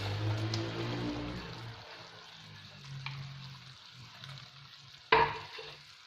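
Oats and dry fruits get stirred into melted sugar in a pan, giving a quiet sticky sizzle and soft scraping that ends in one sharp clack of the spoon.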